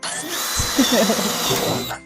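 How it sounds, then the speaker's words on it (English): A steady electric whir like a power drill running continuously at close range, with faint muffled sounds underneath, while making DIY decorations. "The drill doesn't work"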